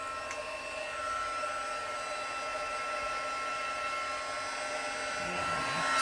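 A heat gun blows steadily for the full stretch, a loud even whoosh with a whine in it as it heats foil for a black ice effect; no voices, with a slight change near the end.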